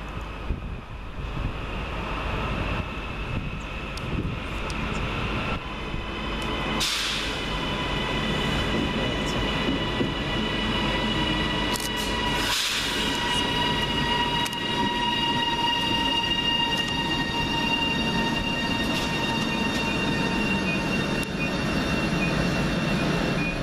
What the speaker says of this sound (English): here comes our train to take us to our next station in the form of 331-008 and 331-013